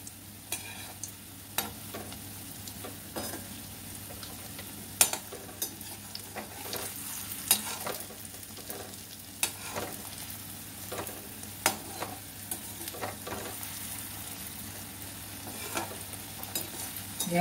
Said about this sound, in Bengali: এভাবে সবটা দেখো ভেজে নিলাম